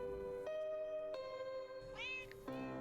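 A cat in a video game meows repeatedly, several drawn-out tonal mews with one rising, wavering cry near the end, clear and close with no talking.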